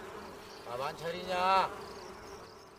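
Bees buzz around beehives where a woman keeps bees, a faint steady insect drone that swells in the middle of the clip as a voice speaks over it.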